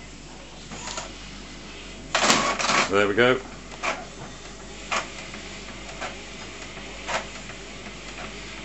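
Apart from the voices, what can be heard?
Epson BX300F printer with CISS starting up and printing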